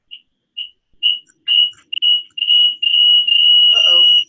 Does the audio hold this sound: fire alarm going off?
yes